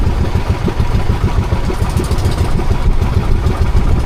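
A river motherboat's engine runs loud and close in a steady, throbbing drone with a low rumble and no pauses, heard alone without talking.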